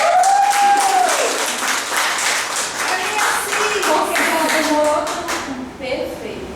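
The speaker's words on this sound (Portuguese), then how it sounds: "Palmas pra ela" Audience applause for a woman at a customer-service training session, dense clapping that holds steady throughout, with a voice speaking over it near the start.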